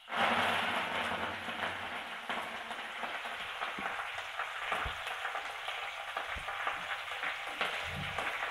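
Mustard seeds, cumin and a dried red chilli fry in hot oil with a loud, steady hiss that starts abruptly. Faint crackles and pops sound under the sizzle as it continues evenly.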